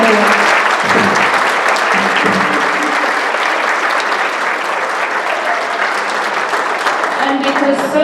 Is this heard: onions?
no